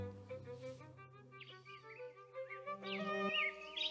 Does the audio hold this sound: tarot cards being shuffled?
no